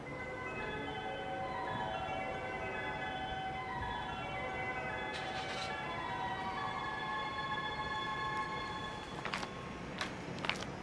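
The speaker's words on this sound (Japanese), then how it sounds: "2番線側、列車が通過いたします。" Rushing rumble of the E001 series Train Suite Shiki-shima passing through Atami station while a melodic chime or music horn plays, with a few sharp clanks toward the end.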